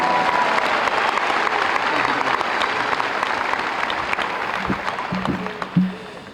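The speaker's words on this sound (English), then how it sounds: "Please join me in giving them a warm round of applause" A crowd at a high school commencement applauds warmly and continuously, a full wash of clapping that tapers slightly toward the end, with a couple of brief louder knocks near the close.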